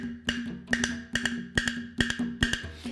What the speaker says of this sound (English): This is what we call a wood block.